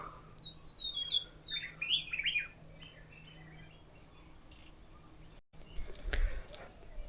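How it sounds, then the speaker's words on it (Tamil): Various birds in a mountain cave shrine setting around 6000 feet in the Nilgiris: several quick, high chirps and trills close together early on, then quiet ambience and a soft thump. "பலவிதமான பறவைகளின் சப்தம் கேட்க முடியுது."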